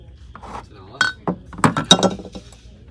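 Mexican glass figurines, a toucan and a donkey, clink against each other in a few light, bright taps mixed with soft handling noises, close by.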